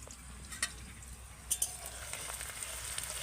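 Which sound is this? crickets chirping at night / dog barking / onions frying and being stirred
onions frying and being stirred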